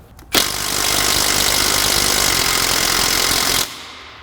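A pneumatic impact wrench loosens a 17 mm bolt on a 1998 Mazda 626 front suspension, a single loud, sustained rattling burst lasting about three seconds, starting abruptly and cutting off sharply.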